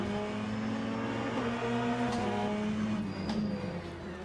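Race car engines in the Le Mans Ultimate racing game, a steady droning engine note held at moderate loudness with slight pitch shifts and brief faint clicks, no talking.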